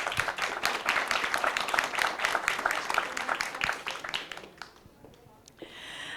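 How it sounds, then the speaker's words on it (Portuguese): Audience applause greets a doctor invited onto the stage at a hemophilia awareness event, a dense patter of many hands that thins out and fades after about four and a half seconds. "Aplausos, gente."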